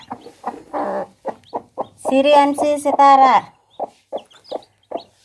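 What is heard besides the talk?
hen with chicks clucking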